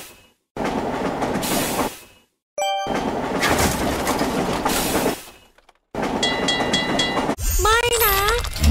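In a Monopoly-style board video game, a departing train sounds as steady rumbling rail noise in bursts with short gaps, ending in a bright horn-like whistle with wavering tones.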